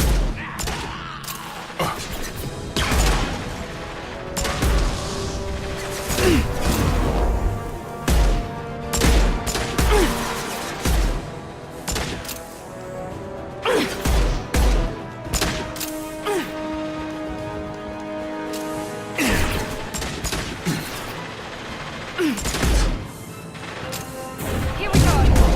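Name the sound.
heavy gunfire in the video game Mass Effect 2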